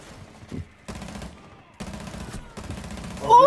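Gunfire in the Rainbow Six Siege video game comes as three rapid bursts of automatic shots separated by short pauses. The shots are close and moderately loud, with a brief burst of other game sound at the end.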